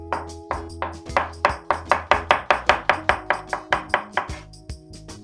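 A knife slices a cucumber on a cutting board in a steady, even rhythm of about twenty crisp, close chops, each with a short ringing tap, and no talk.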